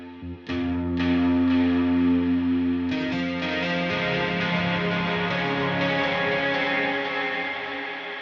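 Distorted electric guitar chords ring out loud and saturated from a virtual guitar instrument, a couple of strums sustaining with a gritty, fuzzy tone and a slight shimmer.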